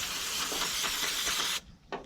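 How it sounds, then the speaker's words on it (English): A steady aerosol spray of brake cleaner onto bolts hisses continuously for about a second and a half, then stops, followed by a short second burst. "Spray these with some brake clean."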